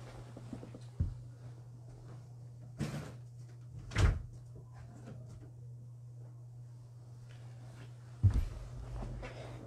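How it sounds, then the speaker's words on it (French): Several dull knocks and thuds of a door being handled and shut indoors are spread over the span, separated by a quiet room hum, with no talking. "excusez-moi, je ferme la porte"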